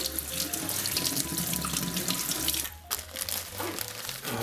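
Tap water runs steadily into a kitchen sink as fresh parsley and coriander are rinsed, a loud continuous splashing rush with a brief dip near the end, and no voices over it.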